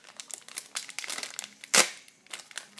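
Plastic packaging from an H&M clothing order being opened, giving a string of close crinkling and rustling bursts with one sharp louder tear or crumple near the end, alone without speech.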